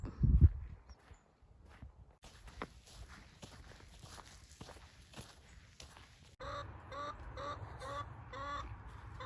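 Chickens at a backyard coop cluck and chatter in the background while footsteps crunch along nearby. The birds grow clearer and busier toward the end, and the whole scene is fairly quiet.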